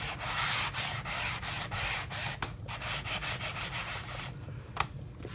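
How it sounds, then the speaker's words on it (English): Hand sanding lightly over a custom keeper, a rhythmic series of short scratchy rubbing strokes, close and steady, with a few brief pauses near the end. "And just lightly sand it."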